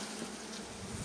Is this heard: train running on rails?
no